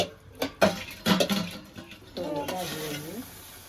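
Lapsi with jaggery being stirred in a pan, with scraping and clinking strokes of a spoon against metal and a soft sizzle underneath. Voices murmur in the latter half.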